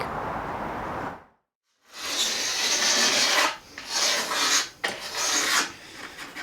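Old silicone sealant is scraped off a bathroom surface in rough, raspy strokes. After a brief pause, several close, repeated scraping bursts follow.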